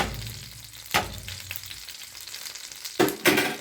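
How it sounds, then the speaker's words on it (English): Salted butter melting in a pan for garlic butter shrimp gives a soft, close sizzle and crackle, punctuated by a few louder scraping bursts as the pan is stirred. "I'm using a regular butter with salt. All right, we're just gonna let this melt through."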